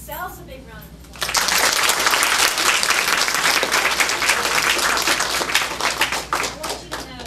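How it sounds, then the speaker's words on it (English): A room full of elementary school children bursts into loud, sustained clapping after a brief moment of quiet, the applause dense and steady until the end. "can you all give yourselves a big round of applause?"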